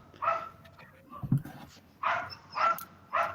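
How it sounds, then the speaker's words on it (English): Several sharp dog barks come in short bursts, one single bark and then three spaced barks, with faint voices talking in the background. "we got some dogs barking"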